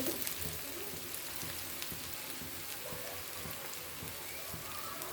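Finely chopped onions fry in hot oil in a home kitchen, giving a steady, even sizzle and crackle that runs throughout at moderate loudness.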